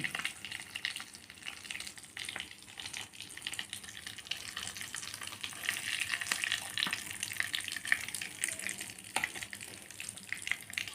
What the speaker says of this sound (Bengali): এবারে বাকি মাছটাও এই তেলেই ভেজে নেব